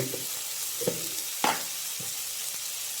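Food stirred in a pan over a medium-high flame gives a quiet sizzle under a few scraping strokes of a spoon, one sharper clink near the middle, no voices.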